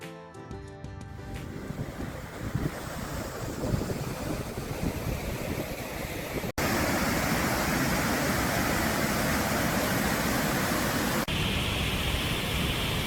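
Steady rushing water surges continuously in and out of rock potholes, with a roaring wash that swells louder partway through, like sea water churning through rock.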